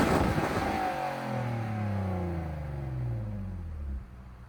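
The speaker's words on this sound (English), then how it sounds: "standard exhaust, which I'll put sound clip in now" A BMW E46 Touring engine revs up hard through its standard exhaust and then winds down, the exhaust note dropping in pitch over a few seconds, loud and close.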